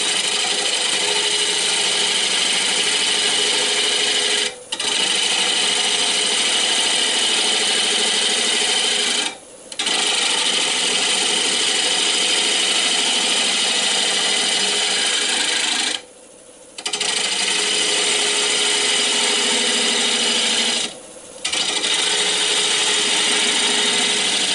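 A bowl gouge cuts a green wood bowl blank on a lathe, a continuous rasping scrape broken by four brief pauses, close and steady, with no voices.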